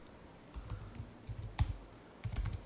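Rapid bursts of keystrokes on a computer keyboard, close and fairly quiet, arriving in short uneven clusters with brief pauses between them.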